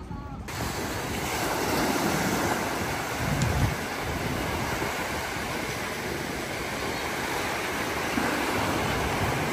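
Gulf of Mexico waves roll onto Clearwater Beach, Florida, a continuous close surf wash with a slightly stronger surge in the middle, steady throughout and without voices.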